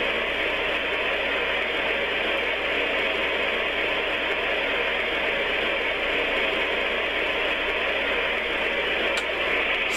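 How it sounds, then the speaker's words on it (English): Steady hiss of white noise from a Homedics Sound Spa alarm clock radio, a continuous broadband wash at constant loudness with no talking. "Sound number 19, white noise."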